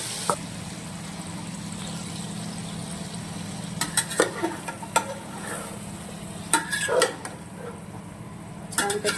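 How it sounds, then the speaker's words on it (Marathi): Marinated vegetables for veg biryani are stirred in a pot over a low background hum, with scattered spoon scrapes and clinks that come in small bursts and grow busier toward the end. "मॅरिनेट केलेल्या भाज्या व्यवस्थित मिक्स करून घेऊया"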